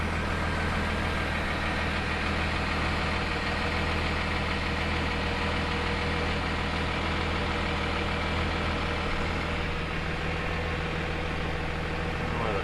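The Cummins diesel in an '01 Dodge idles with a steady, rough, knocking rumble, loud and close, and no voices are heard.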